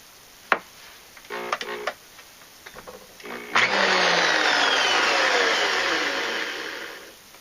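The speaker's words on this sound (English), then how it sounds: "you just put it on a drill, and you can get really nice uniform edges on your coins" An 1889 Morgan silver dollar mounted on a drill, with a few sharp taps and short whirring bursts early on, then a steady, fairly loud high whine of the spinning coin that slowly fades toward the end.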